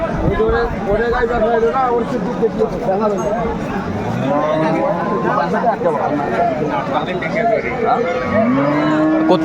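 Dairy cows and calves at the Aftabganj cattle market in Dinajpur moo repeatedly, loud and close, over a steady hubbub of crowd chatter and people talking nearby.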